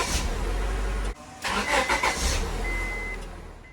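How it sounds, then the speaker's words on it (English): A 1997 Honda Civic CXI starter motor cranks, drops out briefly, then catches as the engine fires up and settles into a steady idle close by. "This is the last time ever we'll get to hear this starter motor."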